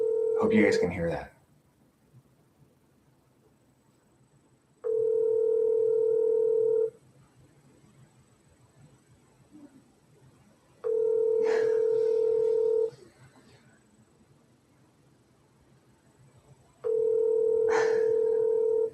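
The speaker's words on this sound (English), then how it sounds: "My phone squeaks when I dial stuff." A mobile phone dialing out plays three steady, loud electronic tones, each lasting about two seconds and separated by pauses, and a brief rustle sounds at the start.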